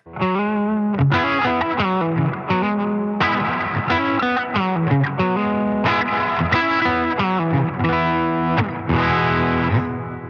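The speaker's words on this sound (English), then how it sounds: "the reverb is first in the chain" Electric guitar played through a NUX Atlantic pedal with reverb engaged first in the chain, loud driven chords and riffs with a lush wash and sustained tails between phrases, no talking.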